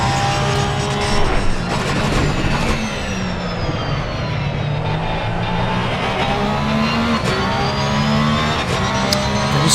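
A Porsche race car engine roars steadily in the Assetto Corsa Competizione racing game, a loud sustained drone with rising and falling revs through gear changes and no gaps for the full stretch.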